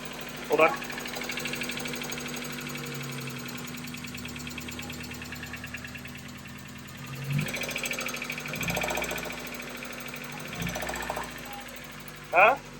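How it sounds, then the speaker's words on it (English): A freshly swapped replacement car engine runs with a steady idle and a faint repetitive knocking, with a few sharp clanks and bumps around it. "I don't like the knocking noise."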